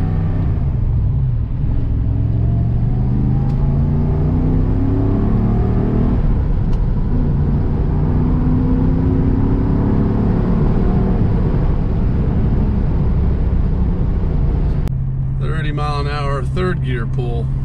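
Either a 2007 Shelby GT or a 1981 Porsche 928 pulling hard through the gears, its engine note rising steadily in pitch, dropping back at each upshift and climbing again, loud and close under a constant rumble, with someone talking at the end.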